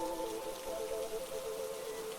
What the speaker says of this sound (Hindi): बारिश थमने का नाम नहीं ले रही थी।